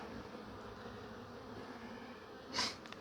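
Honeybees buzz softly and steadily around an open hive during an inspection, with one louder, nearer buzz briefly swelling close by toward the end.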